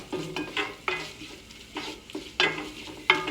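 Onions and aromatics sizzle in a pot as a base for tomato sauce. They are stirred in uneven bursts, with scraping rising over a steady low frying hiss. No one speaks.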